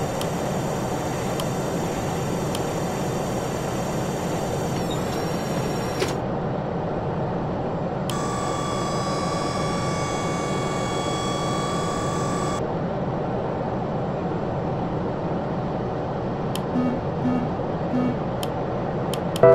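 A steady, loud roar of jet engines fills the whole stretch, with a high whine fading in and out, like an airliner powering up for takeoff.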